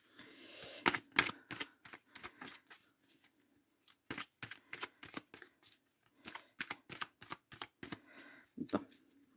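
Oracle cards are shuffled and cut by hand, giving a quiet, close series of quick flicking riffles and taps in an uneven rhythm.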